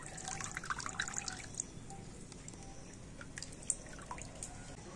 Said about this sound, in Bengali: হাত দিয়ে নিগড়ে যতটা সম্ভব জল আমি এইভাবে বার করে দেব।